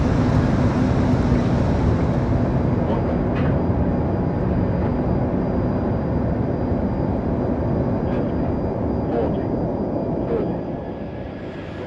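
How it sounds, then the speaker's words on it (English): Airliner engines droning during final approach before touchdown, a loud steady low roar heard from inside the cabin, easing slightly in level toward the end. "During final approach, the engine noise may vary, as the aircraft is required to maintain a constant speed on touchdown."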